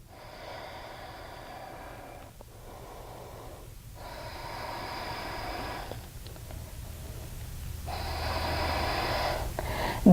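Steady, deep breathing during a yoga practice, long inhales and exhales in slow, even cycles, close and soft, rising gradually in loudness, with no talking.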